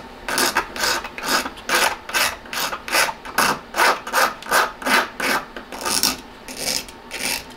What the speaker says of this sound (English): So I'm just gonna file the sharpness off